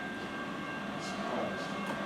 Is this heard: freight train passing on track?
yes